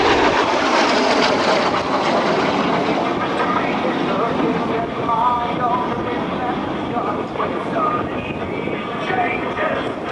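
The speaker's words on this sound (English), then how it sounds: "The L-39 you see flying today is the most widely used jet trainer in the world" An Aero L-39 jet trainer roars overhead at a naval air station airshow, a loud sustained engine rush under an announcer's commentary.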